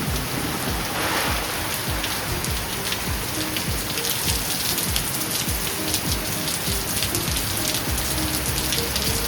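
Steady, loud rain patters on a surface nearby, with individual drops tapping throughout and no voices.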